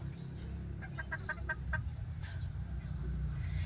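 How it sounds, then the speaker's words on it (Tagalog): Native chickens on a Filipino backyard farm give a short run of soft clucks, about six quick notes, over steady low rumbling background noise. "meron pong native na manok yung aking asawa"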